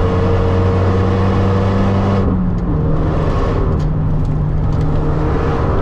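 A Renault Megane 3 RS engine runs at full throttle on a race track, its steady, loud drone shifting pitch partway through before carrying on at a strong, even roar.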